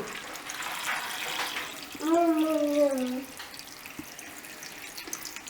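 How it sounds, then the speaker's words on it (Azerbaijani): Water pours into a pot of beef plov with fava beans and dill, a steady splashing hiss. Partway through, a short tonal wavering sound rises above it, then the pour continues at a low, even level. "Suyu tökdük."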